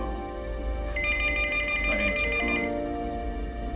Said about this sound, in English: But at that instant, the phone rang.